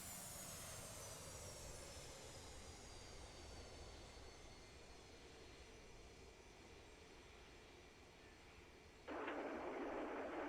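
Boeing 717 jet engines in cruise at flight level 300 in a flight simulator, a steady broadband roar with a high whine that continues unbroken and then steps up sharply louder with a hiss near the end.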